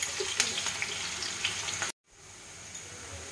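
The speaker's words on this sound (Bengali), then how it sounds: "এবার এই দুটোকে আমি কিছুক্ষণ ভাজবো।" Chopped onion and garlic fry in hot oil for a lentil and ash gourd dish, giving a steady, close hiss that cuts out abruptly midway and then resumes more quietly.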